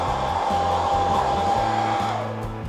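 A handheld hairdryer blows steadily close up while drying fresh paint on an RC car body, a continuous whirring rush with a faint tonal whine and slight shifts as it moves, no talking.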